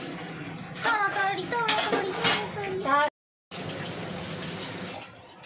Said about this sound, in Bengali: পটলগুলো একটু ধুয়ে নিই